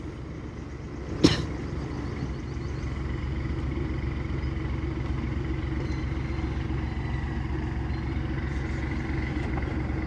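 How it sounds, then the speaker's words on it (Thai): A truck engine rumbles steadily at low pitch while the vehicle is repositioned, with one sharp brief clack early on and a constant droning idle throughout. "เดี๋ยวขยับรถก่อน"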